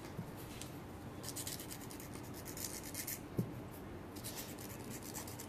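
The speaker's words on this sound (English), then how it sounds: "file the tip to the shape I desire. So in this circumstance, I'm going to do an oval shape." A hand file rasps back and forth across a stiletto nail tip, shaping it into an oval, giving soft rhythmic scratching strokes close up, with one small tap partway through.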